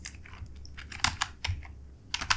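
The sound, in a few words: typing code on a computer keyboard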